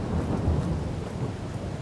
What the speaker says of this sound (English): Our corn's finally ready, but as you can see, it's raining